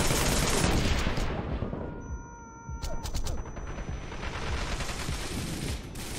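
Rapid bursts of gunfire and an explosive blast from the video game Wanted: Dead fill the scene loudly, dropping briefly into a tonal lull before the dense shooting resumes.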